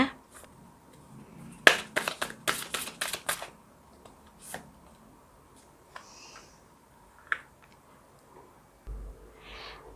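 Tarot cards riffle and snap in a quick, close flurry of crisp papery flicks as a card is drawn from the deck, followed by a few scattered soft taps and handling noises in a quiet room.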